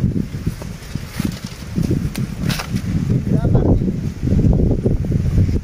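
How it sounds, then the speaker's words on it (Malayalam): Strong wind sweeps across an open village field, buffeting the microphone in gusty rumbling surges with rustling leaves, fairly loud and continuous throughout. "നല്ല കാറ്റുണ്ട് കേട്ടോ."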